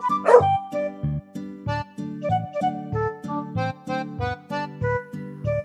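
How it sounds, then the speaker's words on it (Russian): One short electronic dog bark from a toy animal house sounds at the start, followed by a cheerful toy melody with a plodding bass line. "Собачка."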